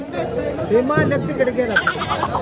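Goats bleat at the Sangola goat and sheep market, a few wavering calls rising over the busy crowd noise, with people talking nearby.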